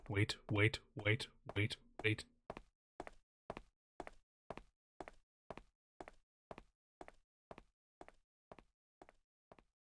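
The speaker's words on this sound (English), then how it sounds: "I hear the sound of somebody knocking on the door." Knocking on a door sounds in the video game Last Window, a long run of evenly spaced sharp raps, quite faint and isolated, following a brief stretch of in-game talk at the start.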